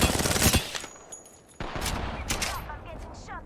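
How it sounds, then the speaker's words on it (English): Gunfire in the Century of Ashes shooter, a sharp burst of shots at the start followed by further loud cracks and battle noise, with speech heard over it. "I'm getting shot at."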